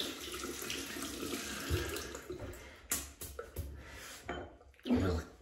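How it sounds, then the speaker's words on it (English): Tap water running onto a shaving brush at a sink, a steady close splash that breaks up as the brush moves under the stream, then a few short gushes and knocks, with no talking. "We'll just wet this brush. I'm going to wet it under the tap."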